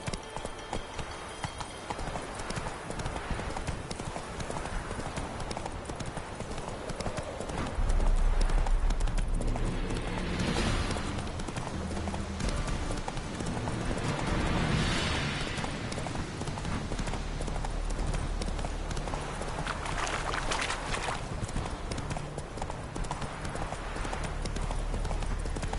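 A horse's hooves clip-clop steadily during riding in the video game Witcher 3, a continuous trotting rhythm that grows louder partway through, with brief in-game voices over it.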